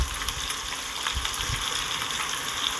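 Long-cut potato pieces fry in hot oil for a Bengali puti fish curry, giving a steady close sizzle and crackle with small bursts of spattering throughout.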